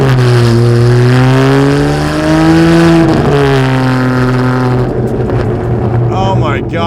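A custom Ferrari 612 with a V12 engine revs loudly and steadily up close, its pitch rising and holding, then dipping briefly before climbing again.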